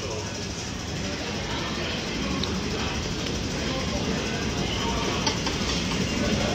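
Train running on rails: a steady, loud, close rumble with a continuous broadband roar and faint clatter throughout, with no pause or change.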